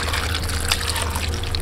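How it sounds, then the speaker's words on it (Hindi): Water pours steadily into a pot of beef karahi, a continuous soft splashing trickle at close range with no voices. "तकरीबन 1/2 गिलास से थोड़ा ज़्यादा पानी डाल देंगे।"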